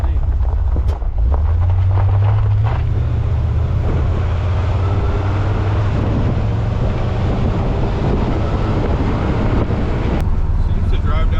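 A barn-find Corvette, an old car, drives steadily along a road, engine droning low beneath heavy, constant wind and road roar.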